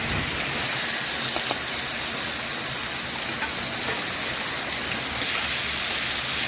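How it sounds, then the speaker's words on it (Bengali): Pieces of live katla fish frying steadily in hot oil until reddish-brown, a loud continuous sizzle and crackle with no talking over it. "বেশ কিছুক্ষণ সময় নিয়ে মাছগুলো আমি লাল লাল করে ভেজে নেব।"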